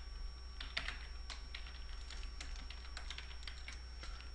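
Quiet, quick clicks of a computer keyboard as Unity C# code is typed, irregular bursts of keystrokes over a low steady hum.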